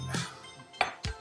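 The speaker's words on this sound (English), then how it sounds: "Get the brown bits off the bottom there." Browned bits scraped from the bottom of an osso buco pan: three quick metallic scrapes and clinks, close and brief, over a faint background hiss.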